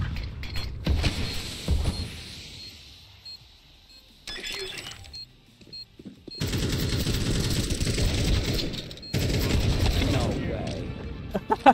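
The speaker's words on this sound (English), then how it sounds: "so many bullets flying around you" Counter-Strike 2 gunfire arrives in rapid bursts of automatic shots, loud and close, broken up by mechanical clicks and quieter gaps, with a voice speaking faintly now and then.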